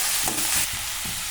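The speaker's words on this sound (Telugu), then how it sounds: "ఇప్పుడు మనం తోటకాయలు అయితే వేసుకుందాం. బాగా కలుపుకుందాం." Amaranth leaves stirred into a hot pan of frying ingredients give off a steady loud sizzle, with soft scraping stir strokes rising above it for a moment.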